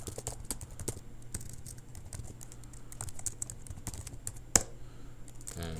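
Computer keyboard typing out a password for a secure copy command in a terminal, a quick run of light, uneven clicks over steady room hum, ending in a sharper keystroke near the end.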